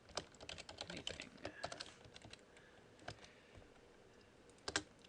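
Typing on a computer keyboard during a computer science lesson: quick, soft, uneven key clicks in bursts and pauses, close and faint, with no talk.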